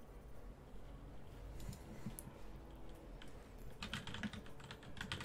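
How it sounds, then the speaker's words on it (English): Quiet, rapid typing on a computer keyboard goes on throughout, with soft clustered key taps that grow busier toward the end. "Sorry, I had to type something."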